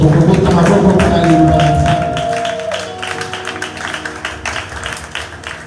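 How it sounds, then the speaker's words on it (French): A church congregation applauding together, a loud dense crowd clap that fades and thins after a couple of seconds into scattered claps, with a sustained tone and some voices mixed in. "On peut applaudir pour la parole de Dieu."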